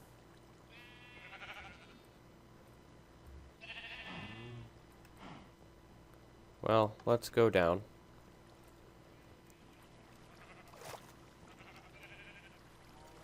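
A sheep bleats in a short burst of wavering cries in a farming game, amid quiet background sounds and some brief speech before and after.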